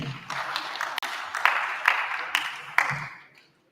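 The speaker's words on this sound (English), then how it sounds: "Another applause to the Prof" Crowd applause at a crop science conference, a steady patter of many hands with a few sharper claps, fading out toward the end.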